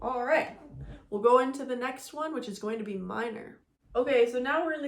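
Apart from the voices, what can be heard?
No everyday noise stands out behind the speech.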